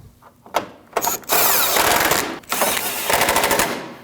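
Ratchet wrench clicking rapidly as 10mm bolts are tightened on the condenser cooling fan assembly of a 2012-2016 Honda CR-V 2.4L, close and loud, in several bursts of quick ratcheting with short pauses.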